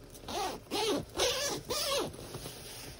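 A sleeping bag zipper is pulled in four quick, separate strokes, each a close, scratchy rasp that rises and falls, followed by quiet.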